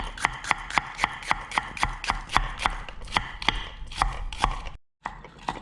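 A knife chops paprika into thin strips on a cutting board, about a dozen brisk, evenly spaced thuds that are close and clear, with a brief pause near the end.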